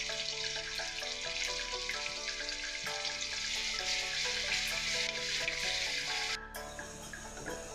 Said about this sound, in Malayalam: സവാള, വെളുത്തുള്ളി എല്ലാം കൂടി ഇട്ട് നമുക്കൊന്ന് വഴറ്റിയെടുക്കാം